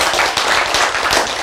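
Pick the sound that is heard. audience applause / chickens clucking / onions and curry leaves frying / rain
audience applause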